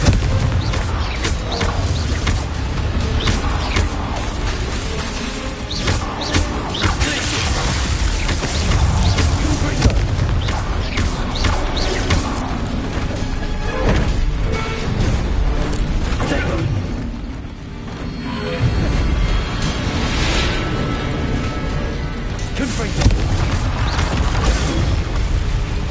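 Confringo blasting spells explode repeatedly during combat in Hogwarts Legacy. Booming blasts and mechanical crashes are layered in loud, continuous game action, with occasional voices in the mix.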